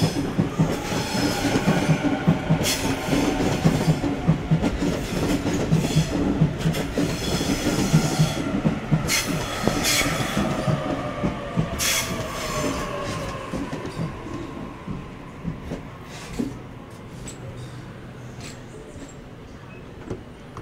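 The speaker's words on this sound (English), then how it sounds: "Arriving on platform 16, we have A1. It is going to Hornsby via Macquarie Uni." A Sydney Trains A1 set pulls into platform 16 at Central Station with a rolling rumble, rhythmic wheel clatter and drawn-out squeals from the wheels, the sound fading gradually as the train slows.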